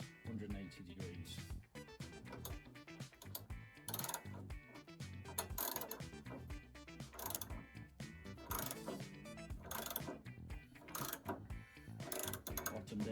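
An air-cooled VW engine crankshaft being turned backwards by hand, giving a run of irregular ratcheting clicks and mechanical clunks, close and moderately loud, alongside intermittent talking.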